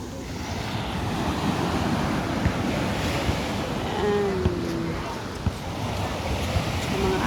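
Calm sea waves wash steadily along a Philippine shore under a clear sky, forming a continuous soft surf rumble with gusts of wind buffeting the microphone throughout.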